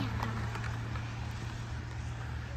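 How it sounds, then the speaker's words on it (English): Stock 305 two-barrel V8 in a 1977 Chevrolet Caprice running at idle, a smooth, steady low hum with a faint rhythmic pulse, close and fairly quiet, with no voices. "Stock 305, 2-barrel, nice and smooth."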